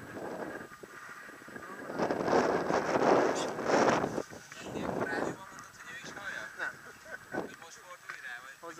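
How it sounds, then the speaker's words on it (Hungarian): Strong wind buffets the microphone in rumbling gusts during tandem paragliding, swelling and easing, while people talk over it and a few honking calls sound nearby. "Ekkora szél van, és alig tart."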